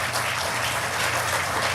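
Sustained crowd applause in a large Republican convention hall, a steady, loud, even roar of many hands with no break.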